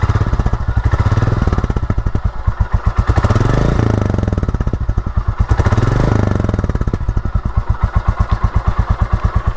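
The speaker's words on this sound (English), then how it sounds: "a very nice looking and very nice sounding OEM exhaust" Royal Enfield Classic 350 single-cylinder motorcycle idling and revving through its stock OEM exhaust, a loud, close, steady thump with a couple of throttle blips swelling and falling back, heard alone without talk.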